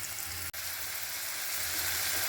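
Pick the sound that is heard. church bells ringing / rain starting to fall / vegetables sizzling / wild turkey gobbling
vegetables sizzling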